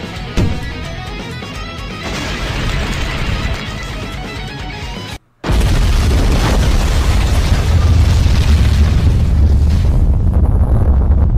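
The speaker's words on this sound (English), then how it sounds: "Grenade!" A grenade explodes in an animated action scene, a loud booming burst that rolls into sustained rumbling chaos, broken by a brief silent gap before continuing at full force.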